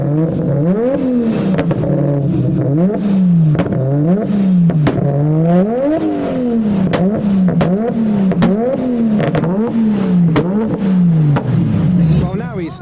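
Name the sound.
Nissan Skyline RB26 engine revving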